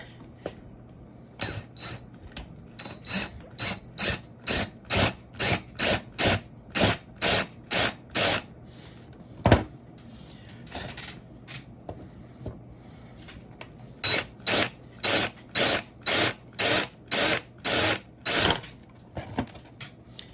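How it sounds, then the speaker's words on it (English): A power drill with a reverse bit whirs in short, evenly spaced bursts, a long run of them, a brief pause, then another series, all close up, extracting a small screw from an Okuma Acuador FS80 fishing reel. "That reverse drill bit grabbed hold of it and spun it around backwards to take it out."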